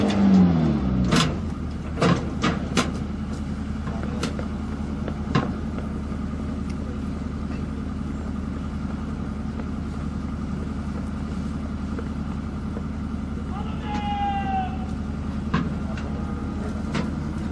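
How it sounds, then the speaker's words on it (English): A 12-ton Indian artillery gun driven on its auxiliary power unit gives a steady low engine drone throughout, with a few sharp mechanical clanks early on and a brief squeal near the end. "Using the auxiliary power unit, the gun can move at a maximum speed of 7 kilometers per hour."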